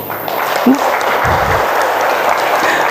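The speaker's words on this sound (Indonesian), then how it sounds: "Tepuk tangan saudara" Church congregation applauding at a 28th anniversary thanksgiving service at GKI Gondomono, Semarang, a steady wash of clapping throughout, fairly loud and dense.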